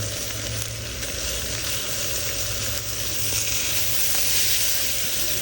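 Pompano fish frying crispy on a hot griddle, a steady loud sizzle with a hissing, crackling texture that holds evenly throughout and has no talk over it.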